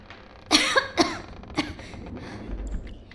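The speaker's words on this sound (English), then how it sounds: "She gave a hearty, singular cough or two before speaking again." A woman gives a few hearty coughs, two sharp bursts close together followed by a lighter third, near and fairly loud in a quiet room with faint rustling afterward.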